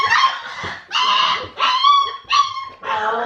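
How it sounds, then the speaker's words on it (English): A Great Dane puppy cries and whimpers in five drawn-out, high whining bursts separated by short pauses, loud and close, with no talking over it. "That's Cinder crying because he's left out."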